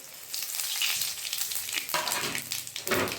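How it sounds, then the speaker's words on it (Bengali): Cumin seeds sizzling in hot oil while tempering dal, a close, crackling hiss with quick bursts of stirring against the pot. "এবার আমি ফোড়ন দিচ্ছি ডালে। সাদা জিরে দিয়ে দিলাম"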